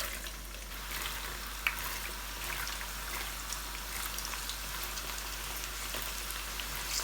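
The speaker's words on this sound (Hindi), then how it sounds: "अब हमने चने की दाल को फ्राई करना है" Chana dal fries in hot oil, giving a steady, dense hiss of sizzling and fine crackling, close and even throughout, with one brief clink partway through.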